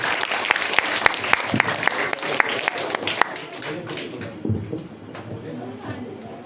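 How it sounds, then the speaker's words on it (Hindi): At a Teacher's Day gathering, an audience claps in sharp rhythmic unison bursts, then the clapping fades out while people talk quietly underneath. "जोरदार तालियां विनोद सर के लिए।"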